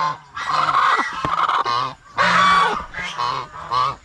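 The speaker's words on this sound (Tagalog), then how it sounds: "Ito yung mga pabo." Turkeys at a poultry nesting area give loud, honking calls in several close bursts, overlapping harshly with short gaps between them.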